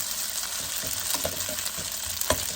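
Pad see ew noodles with dark soy sauce sizzle and crackle steadily in a hot wok, with scraping stir strokes and light clicks of the utensil throughout, close and without talk.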